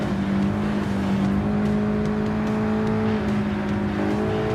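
Race car engines roar continuously in Gran Turismo Sport, led by a Ford GT LM race car with a McLaren and Lexus in the pack, a loud sustained drone with shifting pitch as the cars accelerate.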